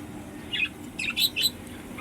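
Pigeons kept in a growing backyard flock near a pond, giving a few short, bright calls in two quick bursts over a steady faint background.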